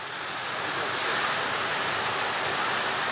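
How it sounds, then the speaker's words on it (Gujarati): Heavy rain pours down at Bodatalav in Bhavnagar, a dense, loud, unbroken hiss of water striking surfaces nearby with no voices over it. "ફૂલ વરસાદ આવી રહ્યો છે, તમે જોઈ શકો છો."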